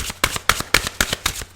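Tarot cards are shuffled in a steady rhythm, with about six crisp riffling bursts evenly spaced and close to the microphone, and no talking.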